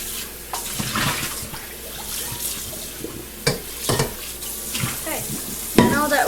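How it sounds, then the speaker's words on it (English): A cooking pot being rinsed under a running kitchen tap while making dandelion jam, with steady water splashing, clanks and stirring bursts close by, no talk. "So I just want to rinse my pot out real quick."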